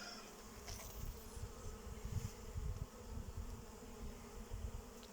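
A large hornet buzzes close around a beekeeper at an open hive, its drone steady and wavering as it circles near, with no voices.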